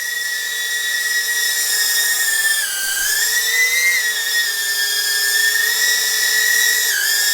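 Sub250 Huma20 FPV drone propellers whir continuously indoors with a loud, piercing high-pitched whine, the pitch wavering slightly as the craft adjusts, close by.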